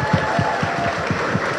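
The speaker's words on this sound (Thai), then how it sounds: "ขอเสียงปรบมือให้กำลังใจปั้นจั่นด้วยนะคะ" A short burst of audience applause for Panjan, with steady clapping from a seated crowd that stays even and moderately loud throughout.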